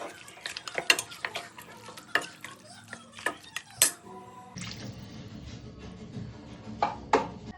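Spices for tempering go into a pan for mutton sambar in a home kitchen, with sharp metal spoon clinks and stirring knocks over a soft sizzle that swells after a few seconds.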